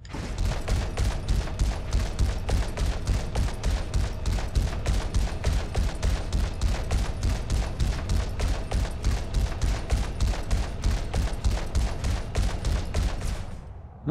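A video game huge multi cannon pounds in a rapid, unbroken series of booming shots, loud and close, keeping an even rhythm for over ten seconds before stopping.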